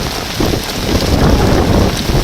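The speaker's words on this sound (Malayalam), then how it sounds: "മഴയുള്ളൊരു ദിവസമാണ് നല്ല മഴയുണ്ട്" Heavy rain pours down steadily, a dense, continuous hiss and patter of drops close by with no voices.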